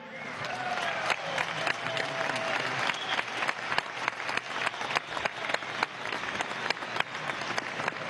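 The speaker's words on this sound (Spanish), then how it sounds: "Un aplauso, pues." Crowd at a government council event applauds in a sustained, evenly dense round of clapping with sharp individual claps standing out, moderately distant and continuing for the full length.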